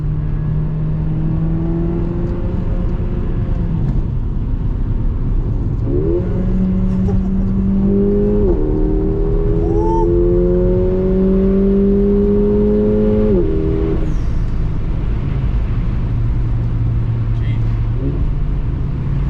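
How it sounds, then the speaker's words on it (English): A Mercedes CLA 45 AMG engine drones loudly from inside the cabin, its pitch climbing through several gear shifts as the exhaust, valve open, roars during acceleration. "I hope you guys can hear that exhaust sound through that camera."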